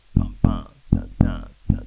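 A bass guitar plays a blues shuffle triplet rhythm in five deep, round plucked notes, close and fairly loud, falling in a lilting long-short pattern.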